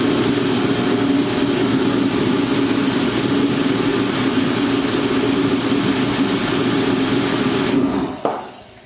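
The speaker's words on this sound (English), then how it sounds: "Let's try it again, see if it ignites." Torpedo kerosene heater running after ignition, a loud steady roaring blower drone close by that holds for about eight seconds, then cuts off abruptly with a brief clunk.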